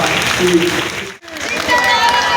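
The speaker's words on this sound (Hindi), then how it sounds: "तालियों की गड़गड़ाहट चालू रहनी चाहिए" A large crowd at a public gathering claps steadily to welcome a speaker, a dense continuous patter with a short dip midway and a voice carrying over it.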